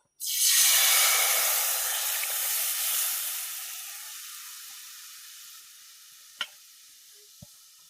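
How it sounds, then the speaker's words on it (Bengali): Water is poured into a hot pan while cooking fish curry, setting off a loud burst of sizzling and hissing that slowly fades, followed by a couple of faint clinks. "এখন একটু জল দিয়ে এখন বসিয়ে দেবো। তো আমি এখন ঢেলে দেবো।"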